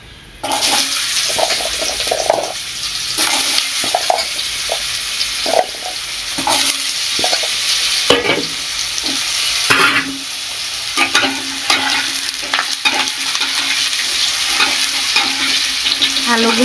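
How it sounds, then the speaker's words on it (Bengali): Potatoes fry loudly in a pan with chilies, a dense continuous sizzle punctuated by frequent scraping stirs and knocks of the spatula, close by and without talk. "আলুগুলোরে এবার একটু ভালো করে একটু ভেজে নেব"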